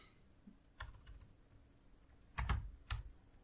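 Quiet computer keyboard typing comes in a few short bursts of clicks with pauses between them, close by, with no voices.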